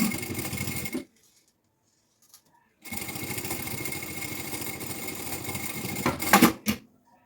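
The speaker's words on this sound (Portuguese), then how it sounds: "E vamos passar uma costura de cima a baixo, de um lado e do outro." A sewing machine runs a seam down a preschool backpack with a close, buzzing whir, stopping for a couple of seconds and then resuming in a long run that ends with a few clunks.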